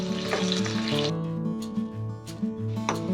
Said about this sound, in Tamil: நம்ம இதில் இஞ்சி, பூண்டு, பச்சை மிளகாய் எல்லாத்தையும் சேர்த்து கொஞ்சம் வதக்கிடலாம்.